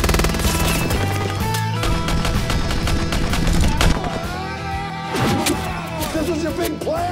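Dense gunfire in a creature film trailer, rapid overlapping shots and bursts layered with a loud music score and effects, continuous and mixed throughout with shouting in the mix.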